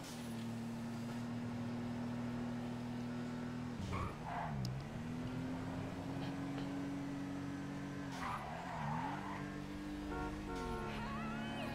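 A Vulcar Ingot, the Volvo 850 Estate-style car in GTA 5 Online, drives with a steady engine drone that dips and rises with gear changes, broken by a couple of brief tire skids.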